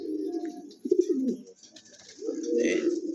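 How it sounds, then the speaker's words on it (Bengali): A pair of yellow Lahori pigeons coo close by in two low, throbbing phrases, one at the start and one near the end, separated by a short lull with faint rustling. "একজোড়া ইউলো কালার লাহরি কবুতর আছে দেখার মতো একটা পেয়ার"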